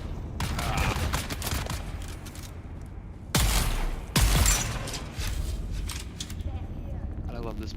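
Rapid bursts of disruptor pistol fire in a video game crackle in loud, dense volleys, with two sharp, heavy blasts standing out midway over a busy backdrop of game effects.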